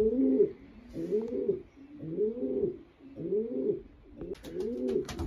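Racing pigeons coo close by in five or six soft, throaty, rolling phrases repeated at an even pace.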